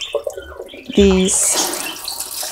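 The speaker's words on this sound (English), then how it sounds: "I'm going to give these a rinse now" Running tap water rinses pieces of silk dyed dark with iron and onion skins, starting as a sudden steady gush after a brief spoken remark and continuing as a close, full splashing stream.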